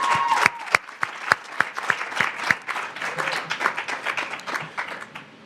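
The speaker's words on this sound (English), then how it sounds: "Let's give them a big applause that they are also seeing us online." Scattered applause at a university graduation ceremony for an international relations class opens with sharp, distinct individual claps that thin into lighter, uneven clapping from a modest crowd, fairly quiet and unaccompanied by talk.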